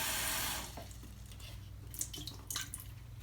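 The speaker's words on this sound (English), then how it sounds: "I do a little rinse." Water splashing and trickling while an essential oil diffuser is rinsed, starting with a brief louder pour that fades into soft, faint drips and sloshes nearby.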